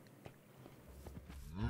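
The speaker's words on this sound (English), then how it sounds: "Cows leaking out of the pen, as they so often do." Minecraft cows moo softly amid faint footsteps near a farm pen, with one low drawn-out moo swelling at the end, quiet and close.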